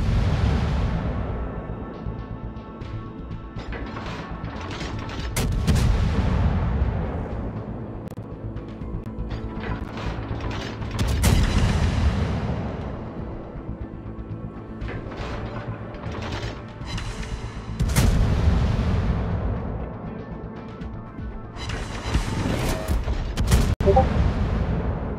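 Heavy naval guns fire from a warship in a naval combat video game, four booming salvos spaced several seconds apart, each rolling into a long fading rumble.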